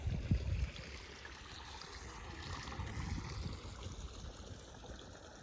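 Pond water rushing fast out through an outlet, a soft continuous stream and trickle with faint gurgles, fairly quiet and steady throughout, with a brief louder rustle near the start.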